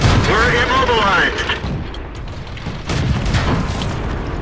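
Tank cannon fire in World of Tanks, loud booming shots with rumbling aftermath, a big blast near the start and another around three seconds, mixed with game noise and voices.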